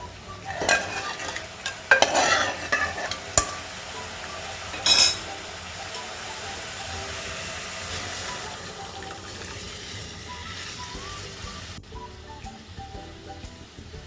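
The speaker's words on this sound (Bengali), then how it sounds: "এবার আমি কাঁঠালের বীজটা ঢেলে দেব" Jackfruit seeds tipped into a pan of fried spices and stirred, with scraping stirs, a few clattering knocks and a faint sizzle, close and moderately loud, quieting near the end.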